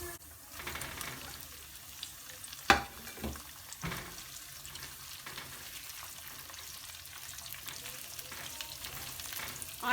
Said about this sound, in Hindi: आँच तेज करके भून लेंगे